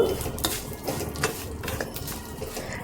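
Roasted vermicelli frying in ghee in a pan, heard as a steady close sizzle with repeated metallic scrapes and clinks of a utensil against the pan, no voices.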